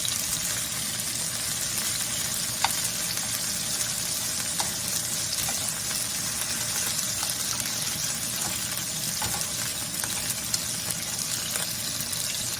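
Beef pieces sear in a frying pan, giving a steady, even hiss of sizzling that runs unbroken and moderately loud, with occasional faint pops.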